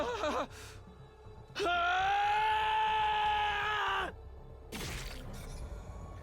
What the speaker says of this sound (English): Rage coursed through my body. It all came rushing out as a bestial scream.